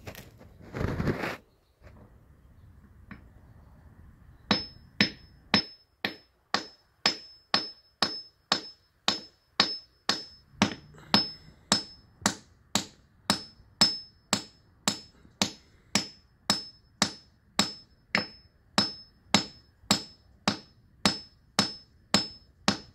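A geode is struck again and again to crack it open, giving a long run of sharp, evenly spaced hard knocks, close and fairly loud, after a brief muffled rustle at the start.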